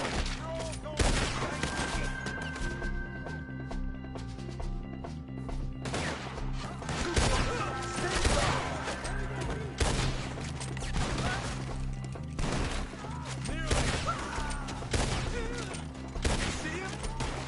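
Rapid bursts of gunfire from a PS4 video game, dense fusillades and repeated shots over a loud soundscape, shooting at enemies up in trees.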